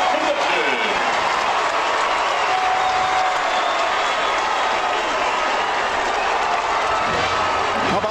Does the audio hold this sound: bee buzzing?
no